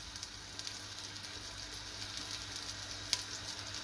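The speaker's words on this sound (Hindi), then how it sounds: "साथ ही मैं लहसुन अदरक पेस्ट शामिल कर रही हूँ इसमें" Garlic ginger paste frying in a pan for a chicken handi, giving a steady, moderately quiet sizzle with a crackle or two and one sharp click near the end.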